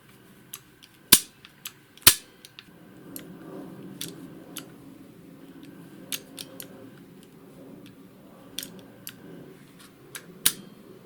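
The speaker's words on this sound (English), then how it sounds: "And if I de-energize the solenoid, there is a reset of the position here." A solenoid in an aircraft control unit de-energizes and resets, giving sharp mechanical clacks, two loud snaps near the start, then scattered lighter clicks and ticks against a quiet background.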